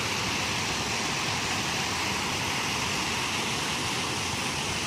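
Water pours over a weir at Wang Lao on a river rafting trip, a broad, even, continuous rush of falling water, steady and fairly close with no other sounds.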